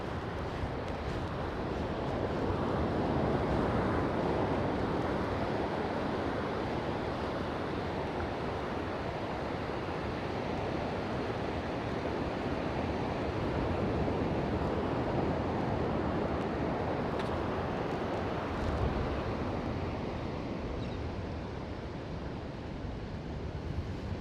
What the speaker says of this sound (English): All you're going to hear is the ocean.